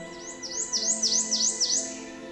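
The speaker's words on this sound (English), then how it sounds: "Protonotary warblers return from South America to nest in the swamp." A prothonotary warbler sings in a cypress swamp, giving a series of about five bright, ringing upslurred notes in steady rhythm, clear and fairly close over a soft background hum.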